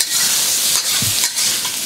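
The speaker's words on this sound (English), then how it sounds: "So we're going to fry that up for a minute" Beef, rice noodles and bacon stir-frying in a hot pan, a steady loud sizzle with a few soft scrapes of a utensil stirring through, no talking.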